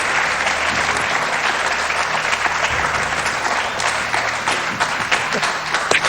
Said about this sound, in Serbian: pa aplauz, molim.